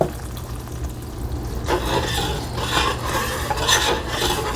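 Spoon scraping and stirring through caramel sauce as vanilla extract is mixed in, a steady rasping swish that grows busier partway through, close and alone.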